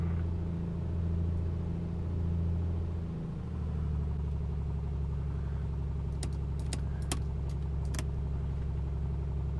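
Piston engine of a Piper PA24 Comanche taxiing in Flight Simulator, a steady loud low drone that shifts pitch slightly after a few seconds, with short metallic scraping ticks near the end.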